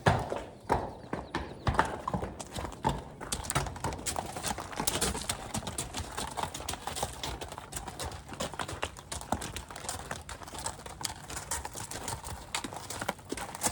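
Hooves clop steadily on hard ground as work horses move around nearby during shoeing, with occasional snorts and faint bird calls in the background.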